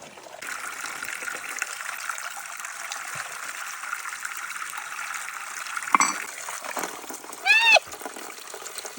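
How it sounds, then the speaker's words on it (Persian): Water from a forest spring trickles and splashes into a bottle being filled, a steady close pour with brief louder gushes near the end. "اولی بالونمون رو پر آب کنم."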